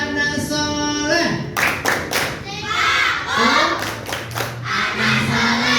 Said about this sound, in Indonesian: Oke, semuanya tepuk anak soleh.